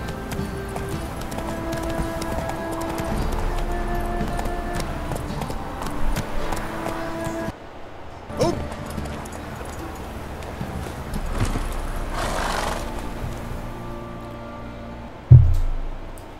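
Roach the horse from The Witcher 3 gallops with a steady clip-clop of hooves, then a sharp louder hoof strike or snort near the end.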